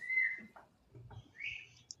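A pet bird indoors gives a few clear whistled chirps and calls, close and moderately loud, separated by short quiet gaps in a still room.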